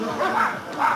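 Two quick barks from dogs at a guard-dog training session ring out close by, about half a second apart.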